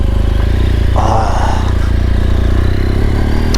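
A BMW GS1200 motorcycle being ridden gives a loud, close, steady engine drone with wind rush and a brief rise in pitch midway.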